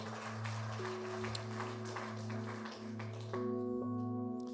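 A church congregation applauds and cheers during a Sunday celebration service, with sustained, even clapping layered over steady keyboard chords that keep going as the applause thins toward the end.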